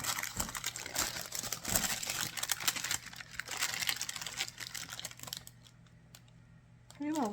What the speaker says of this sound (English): And gently pull off the wax paper.